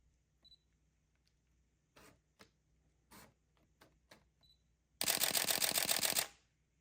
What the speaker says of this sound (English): We can hear the ultrasonic autofocus motor going here.